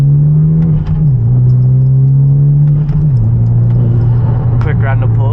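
A Genesis Coupe engine pulls hard in a quick acceleration run, with a loud, steady droning note from inside the car that dips twice as gears shift and then climbs again.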